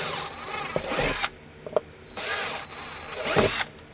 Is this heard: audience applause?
no